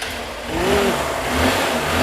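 A used motorcycle engine revs steadily and loudly at close range, with a rough, rising and falling drone and no talking.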